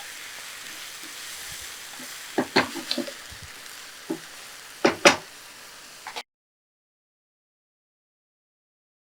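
Coconut masala sizzles softly in a pan while being cooked for a ghee chicken fennel dish, with a few louder scraping knocks of stirring before it cuts to silence.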